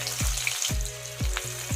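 Chopped onions sizzle in hot oil with whole cumin, sugar and dried chilies for an Assamese lentil dal with roselle, a close continuous crackle broken by four regular stirring scrapes, with no voices.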